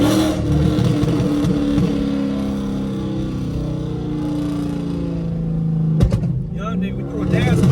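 A Dodge Charger R/T with a 5.7 engine revs loudly and steadily in a sustained roar, with a sharper burst near the end, while people talk over it.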